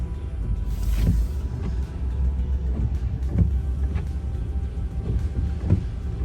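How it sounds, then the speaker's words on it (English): A ferry carries vehicles across to Cameron, Louisiana, with a heavy, continuous engine rumble and several dull thumps and clunks from close by. "That was your ferry ride into Cameron, Louisiana."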